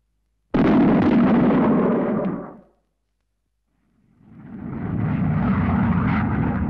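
A supersonic aircraft flying above Mach 1 gives a sudden loud roaring burst that fades out over about two seconds, followed by a short silence, then a second roar that swells back in and holds steady.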